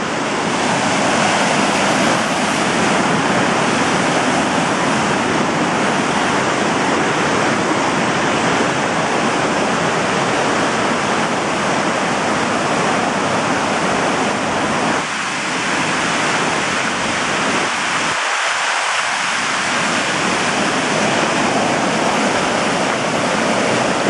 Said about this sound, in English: Water is really moving.